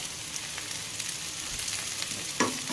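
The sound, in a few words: frying eggplant and pumpkin in a pan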